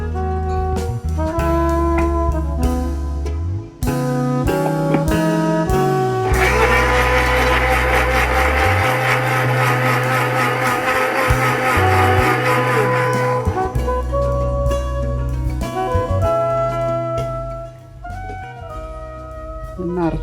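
An electric blender grinds tender coconut pieces with coconut water, a loud steady whirring roar in the middle of the clip, bracketed by music before and after.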